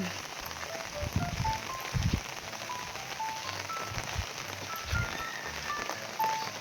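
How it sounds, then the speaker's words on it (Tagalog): Rain patters steadily on surfaces nearby, a soft continuous drumming with occasional heavier drops and low rumbles. "ayan, maulan."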